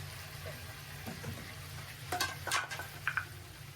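Food for an iftar meal being stirred and fried in a pan, a quiet steady sizzle with occasional sharp scrapes and clinks of the spatula toward the end.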